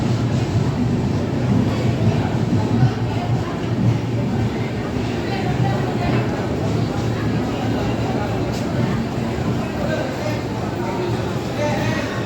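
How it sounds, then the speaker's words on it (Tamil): A Lalbagh Superfast Express pulls out of Katpadi Junction, bound for KSR Bengaluru, as a steady low rumble that stays even throughout while voices murmur in the station around it. "லால்பாக் எக்ஸ்பிரஸ் காட்பாடி ஜங்ஷன்லேருந்து கிளம்பிடுச்சு."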